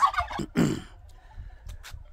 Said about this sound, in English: hear the noises from these birds